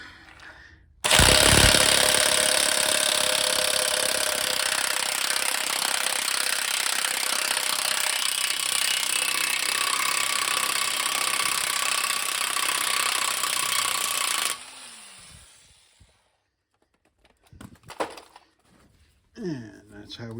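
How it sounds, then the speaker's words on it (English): A Milwaukee M28 impact wrench with a 1 3/8 inch socket spins a CV axle nut off a 2019 Ram 1500 Bighorn, a loud, close, continuous rattling hammer for about thirteen seconds that cuts off abruptly, followed by faint clinks and handling noises. "And I'm going to spin this CV axle nut off."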